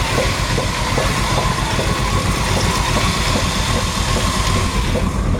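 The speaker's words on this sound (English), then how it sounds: "nice sounding engine" A 1953 Ford F100 pickup's engine with a high-rise intake and new Edelbrock parts runs steadily up close, a loud continuous rumble with a faint regular ticking and no talk.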